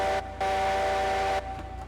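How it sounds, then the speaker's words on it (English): A Heisler steam locomotive in Railroads Online sounds its whistle: a loud, close, steady chord-like blast of about a second after a short toot, over a low rumble of the engine. "Oh my god, that whistle's loud."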